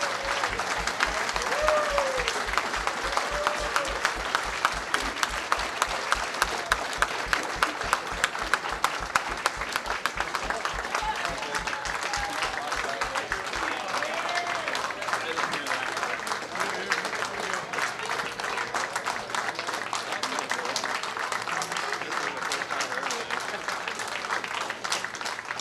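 Sustained audience applause for veterans at a professional wrestling event, a dense crowd clapping steadily throughout, with rhythmic thumps in the early part and faint voices mixed in.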